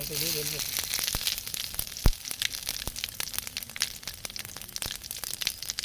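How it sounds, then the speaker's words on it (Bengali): Bay leaves, dried red chillies and cumin seeds sizzle in hot oil for a Bengali chicken kosha, giving a steady close crackle with a few sharp pops and a short voice near the start. "দিয়ে দেবো তেজপাতা আর শুকনো লঙ্কা দিয়ে দেবো জিরে"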